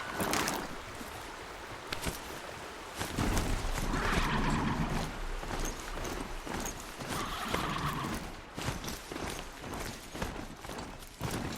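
Video game horse hooves clopping in a rhythmic gait while being ridden into water, with splashing and movement sounds, moderately loud, no talking.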